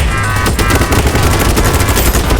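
Rapid automatic gunfire from a BattleBit Remastered match rattles on without a break. The shots are loud and dense, with overlapping bursts filling the whole moment.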